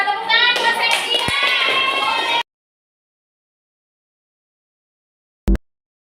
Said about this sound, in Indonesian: Sudah tepuk tangan buat Septian.